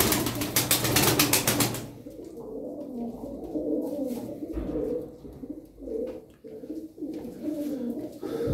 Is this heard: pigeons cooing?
yes